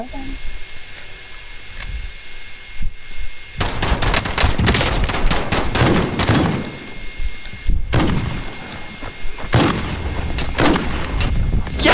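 Dense bursts of shotgun and pistol fire in a shooter video game, loud, rapid reports piling up with brief lulls, mixed with excited talking throughout.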